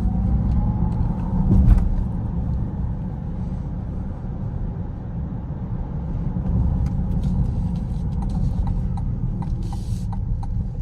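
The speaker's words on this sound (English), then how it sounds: "Regenerative braking is kicking in there. It's got an interesting sound. The false electric sound." A 2024 Acura ZDX A-Spec electric car slowing under regenerative braking, with a synthetic electric whine over steady road rumble and cabin noise, heard close from inside without talk.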